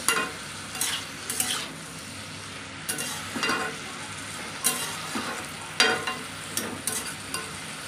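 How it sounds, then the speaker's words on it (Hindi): Raw papaya is stirred with salt in a hot pan, a continuous sizzle punctuated by repeated scraping strokes of a spoon at an uneven rhythm, close-up and alone. "नमक के साथ अच्छे से मिक्स कर देंगे"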